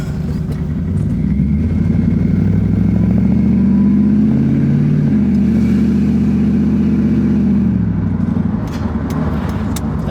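LS-swapped Chevy S10 truck accelerating hard through its gears on the road, a loud, close, sustained engine roar that climbs in pitch, dips at a shift, then climbs again.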